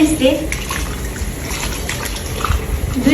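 Large mangoes are washed under a running water tap on a rooftop: a steady, close splash and trickle of water fills the clip, with a person talking over it.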